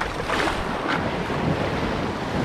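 Rough surf rolling and breaking close by on a rocky beach, a steady wash of water with wind buffeting the microphone, no voices.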